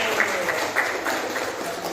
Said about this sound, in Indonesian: Oke, tepuk tangan untuk Laura.